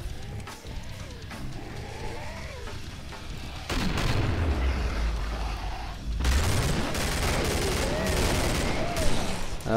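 A bullpup rifle fires in the video game Killing Floor, with loud, dense bursts of gunfire and booming impacts that come in waves over continuous game noise.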